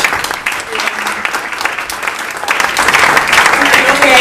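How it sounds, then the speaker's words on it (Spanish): Seminar audience applauding steadily in a hall, a dense wash of clapping that swells toward the end, with no clear speech over it. "pido un aplauso para los dos."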